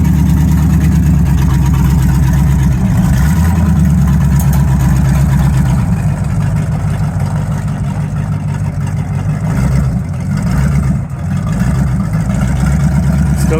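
The engine of a 1951 GMC 100 truck runs at a loud, steady idle with a low, rough rumble close by throughout, the pitch wavering slightly.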